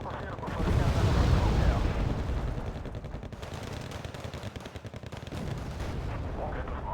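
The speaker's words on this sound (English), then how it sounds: "Let's get more mortars for fire support." Mortar fire support in a combat video game, with dense, rumbling blasts and crackling gunfire rolling continuously, loud and heavy throughout.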